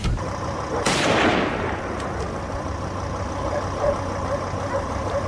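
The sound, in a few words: gunshot during wild boar hunt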